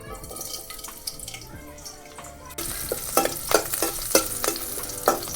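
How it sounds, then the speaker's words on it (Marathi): Chilies hit hot oil in a wok partway through, a sudden loud sizzle that swells over quieter kitchen background, with stirring clatters and crackling bursts continuing close by. "तेल तापलेलं आहे तर आता मी मिरच्या टाकून घेते"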